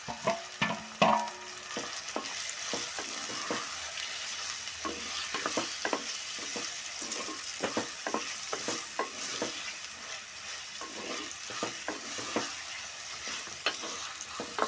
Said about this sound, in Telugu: ఇది వేసుకున్న తర్వాత కొద్దిసేపు బాగా వేగాలండి టమాటా వేసుకున్న తర్వాత వేగాలండి